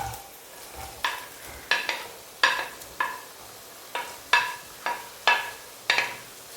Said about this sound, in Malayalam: വെളിച്ചെണ്ണ ഒന്ന് ചൂടായി വരുമ്പോൾ ഒരു മീഡിയം സൈസ് സവാള ചെറുതായി കട്ട് ചെയ്തത് ഇതിലേക്ക് ഇട്ട് കൊടുക്കാം